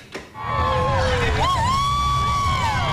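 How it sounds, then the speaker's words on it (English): Thousands of fans lining downtown Minneapolis streets cheer at a Lynx championship celebration: loud, sustained crowd roar with shrill whoops and whistles rising over it. "downtown Minneapolis streets were lined with thousands of fans who came out to cheer on the champs"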